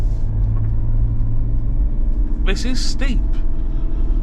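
An Ineos Grenadier off-road vehicle climbs a slippery slope with a loud, steady engine rumble from inside the cab, while someone talks over the droning motor.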